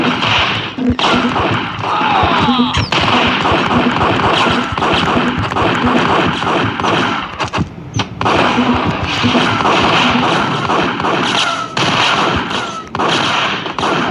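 Gunfight in the video game Max Payne: a dense, loud barrage of rapid gunshots and impacts running almost continuously, layered with game effects and music.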